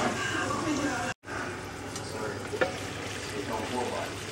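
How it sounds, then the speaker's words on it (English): Seasoned steaks fry in a pan on relatively low heat, a steady soft sizzle with a brief break and a few faint spatters, while someone talks over it. "So I got the steaks in there. I'm gonna keep them going at a relatively low heat."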